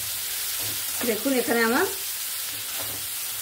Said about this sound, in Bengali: এবার আমি ঢাকনাটা খুলে আরেকবার নাড়াচাড়া করে নেব